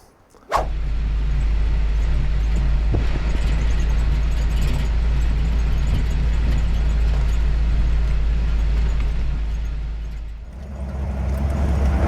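Jeep CJ5 engine driving up a forested mountain backroad in the Cabinet Mountains, a steady loud low drone from inside the vehicle that starts abruptly and dips briefly near the end.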